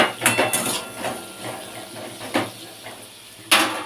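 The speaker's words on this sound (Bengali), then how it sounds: "আগে ফুল আলুটা ভাজা হোক তারপর ফুলকপি ভাজবো" Very small potatoes sizzle and hiss in hot oil in a pan for a cauliflower and soybean dish, with a few sharp clanks of a utensil on metal, heard close up with no voices.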